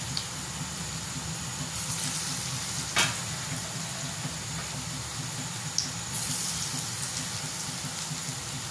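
Soaked lentil bhaji fritters fry in hot oil on a gas flame, giving a steady, dense sizzle with bubbling throughout. One or two sharp clicks rise above it, and there is no talking.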